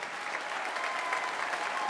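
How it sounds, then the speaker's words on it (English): A school band concert audience claps for the kids, brief, even applause from a crowd heard at a moderate distance, without talk. "big round of applause for the kid"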